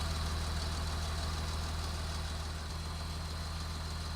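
A tractor's diesel engine idles while reversing toward a slurry pit, a low, even rumble and constant hum, unbroken for the whole stretch, no voices.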